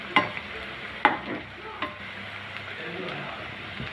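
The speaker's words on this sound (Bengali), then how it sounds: "এক এক করে বড়াগুলো আমি উল্টে দিচ্ছি। এখন সুন্দর করে ভাজা হয়ে যাচ্ছে।" Palm fruit fritters frying in oil, a soft steady sizzle under a few sharp clacks of a spatula turning them, fairly quiet and close, with no speech.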